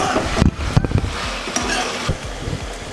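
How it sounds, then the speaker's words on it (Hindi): Kadai chicken masala cooking in oil in a wok, stirred with a utensil: repeated scraping knocks and clatters against the pan over a continuous sizzle, close and fairly loud, no talking. "मैं इसे इसी तरीके से हिलाते हुए फर्दर कुक करूँगी जब तक कि मसाला तेल ना छोड़ दे।"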